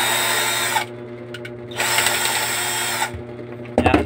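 A power screwdriver backs screws out of a power supply in two whirring bursts separated by a brief pause, with light clicks and handling noises in between and a short rattle at the end.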